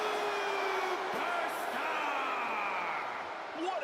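Wrestling crowd in a WWE video game cheering and whooping, a dense, steady roar of many voices with shouts rising out of it, loud throughout the whole stretch.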